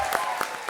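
Brief burst of studio audience clapping on the comedy show Comedy Circus, close and loud, with a voice briefly over it.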